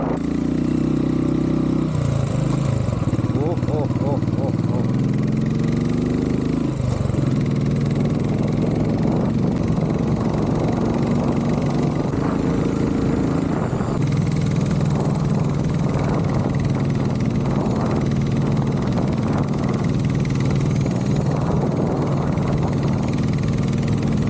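Motorcycle engine runs continuously while riding toward a market, a steady mid-pitched rumble with shifting revs and wind noise, loud and close throughout, with no talking.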